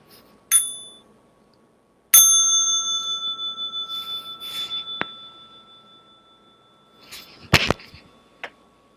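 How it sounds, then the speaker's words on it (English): A small meditation bell is struck twice, each ring sustaining a clear pure tone that slowly decays in a quiet room, followed later by a few faint soft clinks. "Small bell for stretching and massage."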